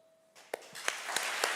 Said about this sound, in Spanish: yo pido un fervoroso aplauso para estos poetas